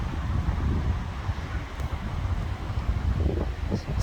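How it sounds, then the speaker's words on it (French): Strong, steady foehn wind gusts roar across the Vercors during a storm, a dense broadband rush that swells and buffets the microphone almost without pause, with a few faint higher rustles near the end. "Oula, les rafales de Vercors. Mais alors bien sévère."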